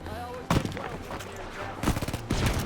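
Gunfire in a video game shooter: several sharp bursts of shots crack out over a steady game background, loud and close, with a few separate volleys spread across the moment.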